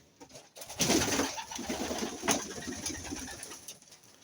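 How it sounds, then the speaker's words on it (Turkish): A pigeon coos nearby in low, throaty murmurs, with some rustling and faint background noise around it. "şimdi Ertuğrul size 200 bin euroluk kuşunu gösteriyor."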